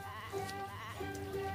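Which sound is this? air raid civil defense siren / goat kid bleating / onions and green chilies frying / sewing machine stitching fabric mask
goat kid bleating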